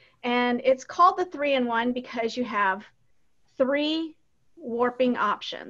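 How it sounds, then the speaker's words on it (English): A noisy pet cat lets out a single meow indoors, in a short gap between stretches of a woman's close, steady speech. "pardon my cat, who's very, very noisy"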